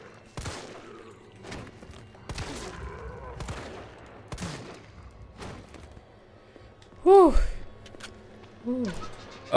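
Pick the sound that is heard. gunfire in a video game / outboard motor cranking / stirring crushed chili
gunfire in a video game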